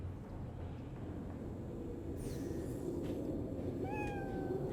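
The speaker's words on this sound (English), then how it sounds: "It's the cat!" A cat in Cyberpunk 2077 gives a couple of short, faint meows on a rooftop over a low, steady city rumble, with no voices.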